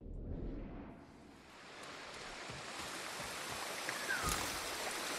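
A waterfall in the video game Ghost of Tsushima roars in a steady, broad wash of rushing water, soft and continuous throughout with no speech.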